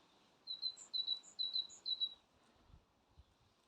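Birds chirp and tweet outdoors in a bee-friendly spring garden, a run of bright, repeated calls close by for a couple of seconds, then a faint breezy hush with a few soft low thumps.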